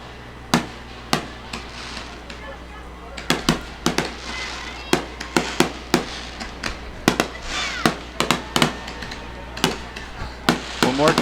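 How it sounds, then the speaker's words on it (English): Fireworks burst over a high school football stadium celebrating a Marine City Mariners home win, a run of sharp, loud cracks and pops at uneven intervals with crackling tails, while voices talk faintly beneath. "there is the fireworks display for the hometown Mariner victory"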